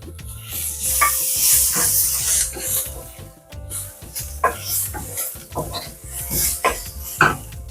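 A large green chilli, alappinos-like, drops into a hot pan for chicken liver masala, setting off loud steady sizzling with repeated stirring and clinks of a utensil against the pan.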